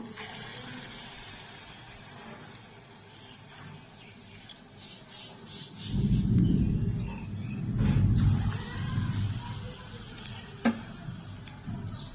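Bengali palm fruit fritters, taler bora, fry in oil over a low flame, making a soft, bubbling sizzle that surges louder for a few seconds at a time, with occasional faint clinks nearby.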